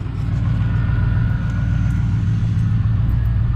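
A 2020 Toyota Supra pulls away from a standstill in reverse, its engine a steady, loud low rumble close by with no pauses for the whole stretch.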